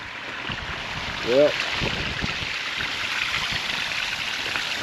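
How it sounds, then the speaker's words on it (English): Water pouring and draining steadily out of a tilted, propped-up IBC water tote outdoors, a continuous rushing flow with wind noise, plus one brief spoken word from a person. "got it tilted, propped up, so all that water will drain out"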